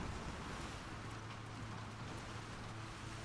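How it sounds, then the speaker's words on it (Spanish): Steady, faint rainfall hisses without a break during a storm in The Last of Us Part II, with no voices. "Ya, aquí anda la tormenta"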